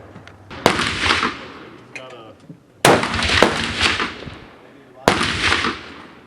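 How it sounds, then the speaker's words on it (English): Three sharp, loud gunshots from a Remington rifle at an outdoor shooting range, each a sudden crack with a decaying tail, spaced about two seconds apart, with brief voices in between. "But we'll be shooting my Remington here, and then we'll move over to the 50-yarders for the 10-22"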